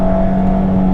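A Mazda MX5 ND2 184PS engine pulling hard on track at Cadwell Park, a loud, steady in-car drone with strong, sustained tones and no speech.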